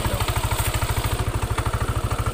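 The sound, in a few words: motorcycle engine running with knocking sound, headlight on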